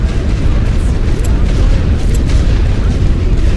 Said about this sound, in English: Ooh, artillery.